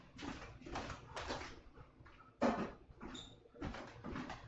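Pigeons or doves cooing outside in soft, repeated phrases, faint and somewhat distant, with a brief louder sound partway through.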